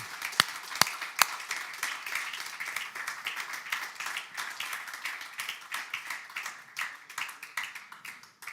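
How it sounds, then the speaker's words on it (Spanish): Steady applause from a church congregation, a dense patter of many hands clapping at moderate distance, with a few sharper claps near the start. "Eso merece un aplauso"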